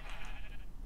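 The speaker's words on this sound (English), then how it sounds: "There's small sheep in here." Sheep bleating in the video game Minecraft, a short, close, nasal bleat standing out clearly over the game's background, with no speech.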